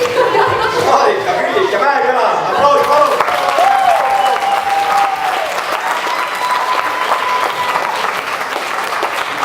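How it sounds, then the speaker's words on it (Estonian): A school Christmas party crowd applauds loudly and continuously in a hall, with laughter and voices mixed into the clapping throughout. "Marika, Küllik ja Mäeküla, aplaus palun!"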